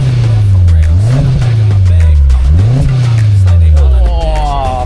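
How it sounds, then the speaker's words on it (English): A Suzuki Jimny with a Yoshimura exhaust, revved hard up close: a loud, steady idle broken by two quick throttle blips that rise and fall, then a final climbing rev near the end. "let's listen to this Yoshimura exhaust"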